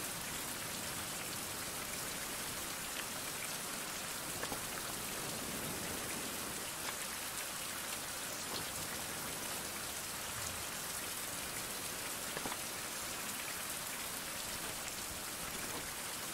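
Rain in a survival video game, a steady even hiss of falling drops on surfaces that runs unbroken throughout, with no talk.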